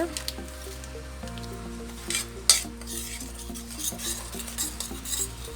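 Garlic butter sauce for a seafood boil with added oregano and chili powder being stirred over very low heat, with utensil scrapes and clinks against the pot and a soft sizzle underneath, no talking.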